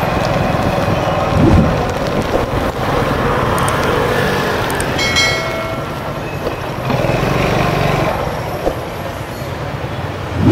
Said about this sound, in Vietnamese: mưa rồi các bạn ơi.